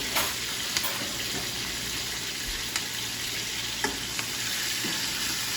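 Flank steak sizzles in butter with garlic scapes as it is basted, a loud steady frying hiss close up with a few small clicks and splatters.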